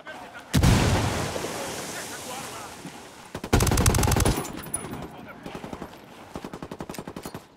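In Ghost Recon Wildlands, a frag grenade detonates with a heavy blast, then another explosion follows, mixed with machine-gun bursts and a closing string of rapid close gunshots.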